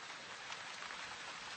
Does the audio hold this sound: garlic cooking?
no